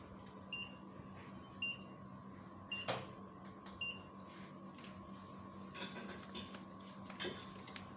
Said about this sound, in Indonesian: di sini alarm berbunyi